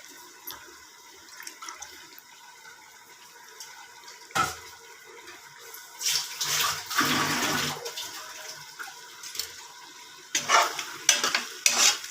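Mutton pieces fry in oil with ginger-garlic paste, starting as a quiet crackle and swelling into bursts of louder sizzling and clattering as the meat is stirred, close and uneven.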